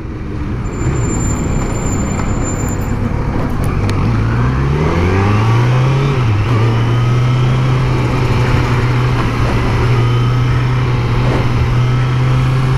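Kawasaki Z900 inline-four motorcycle accelerating on a highway, its engine note rising through a gear change and then settling into a steady, loud drone under constant wind rush.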